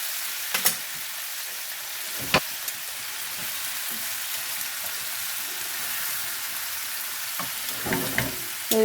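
Mushrooms fry with fresh thyme in a pan, giving a steady soft sizzle with a few sharp crackles and clicks scattered through it; no one speaks.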